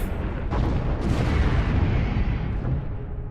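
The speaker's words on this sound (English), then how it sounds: "a second explosion nearly tore the whaler in half" A deep, sustained rumbling blast with a few sharp cracks near the start, loud and close, dying away slowly with no voices.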